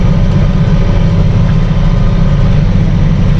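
An old Massey Ferguson tractor engine runs with a loud, steady low diesel rumble close by, unbroken and without voices.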